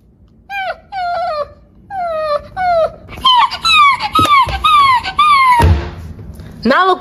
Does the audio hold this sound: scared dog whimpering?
yes